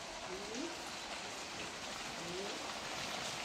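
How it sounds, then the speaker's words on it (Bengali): Heavy rain falls outside as a steady, dense wash of hiss that never lets up. It sounds fairly distant and muffled, and a couple of faint brief tones drift through it. "বাইরে অনেক বৃষ্টি হচ্ছে"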